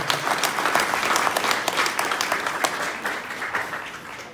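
A crowd applauds steadily at the opening presentation of the 2018 Ixtacuixtla carnival. The clapping is dense and even, then thins and fades toward the end.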